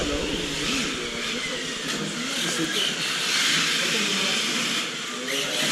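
A small RC drift car's electric motor whines and tires hiss as the car slides and regains grip during a session among friends, with someone talking over it throughout.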